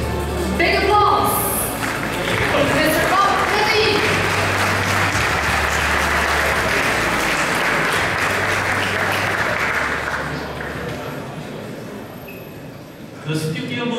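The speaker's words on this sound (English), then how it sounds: "Big applause." Audience applause at the ASUS IFA 2019 product launch event, a loud, dense crowd clapping that holds steady for about ten seconds and then gradually thins out.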